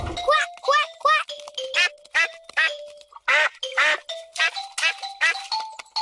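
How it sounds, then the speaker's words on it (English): A cartoon character voices a series of duck quacks, a rhythmic run of about a dozen bright, close, nasal calls with short gaps and a faint chime under them. "Quack, quack, quack."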